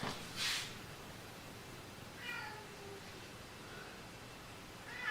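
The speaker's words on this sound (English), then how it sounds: "Now my other cat's whining at me." A cat whines with a few faint meows spaced across a quiet indoor room, one louder cry near the start and softer ones following.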